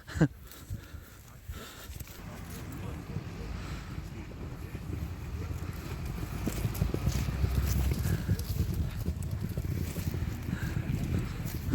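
Mares' hooves clip-clopping over wind noise and rumble, a steady rhythmic clatter that grows louder and busier partway through.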